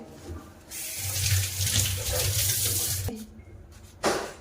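Temple leaves rinsed under a running tap at a sink, a steady close splashing stream of water that cuts off abruptly near the end, followed by a brief final splash.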